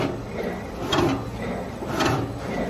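A servo-motor-driven cutter on an epoxy putty stick packing machine cycles twice, each stroke a soft mechanical clack and slide over a steady machine hum.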